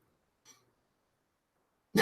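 A single loud, sharp sneeze bursts out at the very end after a near-silent stretch, preceded by a faint breathy sound.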